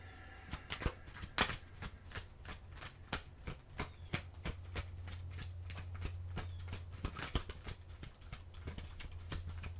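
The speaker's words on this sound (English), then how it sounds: "let me get these cards organized here, and then let's get your last oracle card" A deck of oracle cards is shuffled by hand, producing a long run of quick, crisp riffling taps in an uneven rhythm, close and fairly quiet.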